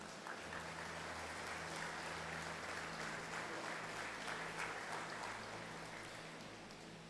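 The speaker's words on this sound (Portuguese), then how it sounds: "Você pode aplaudir o Senhor Jesus?" Church congregation applauding, a dense sustained wash of many hands clapping that holds steady throughout, with a faint low hum beneath it.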